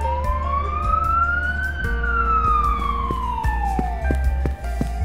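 An ambulance siren wails steadily, its tone sweeping slowly up and then down while droning continuously over low engine rumble; loud and close throughout.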